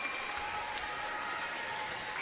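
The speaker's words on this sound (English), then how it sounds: "the men's basketball team applauds that one" Steady applause fills a gym as the crowd and men's basketball team clap for a blocked shot at a 2023 Eastern Kentucky vs North Florida women's college basketball game, a dense even patter throughout.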